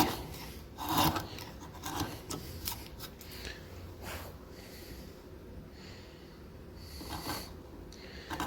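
A chisel pares timber along the grain to cut a recess for a door hinge, giving repeated close rasping and scraping strokes with irregular rhythm and no talk.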